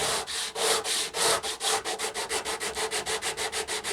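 Rhythmic back-and-forth sanding strokes on a guitar fretboard with pearl inlays during a refret, about fifteen steady rubbing passes that start slow and long, then quicken, close and clear with no talking.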